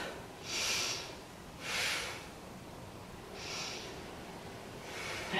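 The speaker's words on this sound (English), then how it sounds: "Take three breaths." Slow, soft breaths drawn in and released during a beginner yoga practice, four quiet airy swells spaced a second or two apart in an otherwise hushed room.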